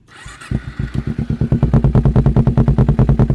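A 2012 Kawasaki Ninja 250R two-cylinder engine cranks and fires, settling into a loud, throaty idle with distinct, evenly spaced exhaust pulses from a racing exhaust.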